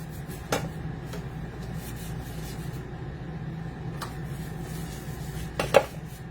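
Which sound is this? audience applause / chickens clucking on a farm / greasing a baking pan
greasing a baking pan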